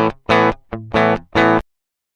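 Guitar run through a Line 6 Helix with distortion, heard as four or five short, gritty, buzzing chord bursts with brief gaps, loud and close, cutting off into silence.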